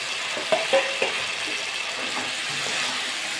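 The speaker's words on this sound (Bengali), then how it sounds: "একটু নাড়াচাড়া করে নিলাম।" A spoon scrapes and knocks as fried mixed vegetables are stirred into oily cooked masala in a pan for Bengali veg dal. A few clacks stand out over a soft, steady sizzle.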